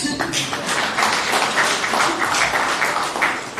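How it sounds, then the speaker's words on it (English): Audience applause fills a council chamber at a parliamentary oversight meeting of Ngwathe Local Municipality, a dense steady clatter of many hands sustained throughout with some crowd noise mixed in. "please give yourself a big round of applause"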